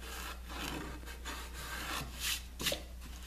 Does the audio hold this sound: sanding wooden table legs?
yes